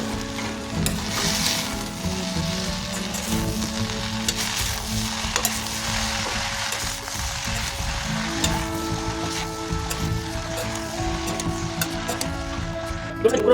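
Lote greens sauté on a low flame in a Bengali wok, a steady, close sizzle and crackle of oil and moisture that continues evenly throughout with faint stirring scrapes.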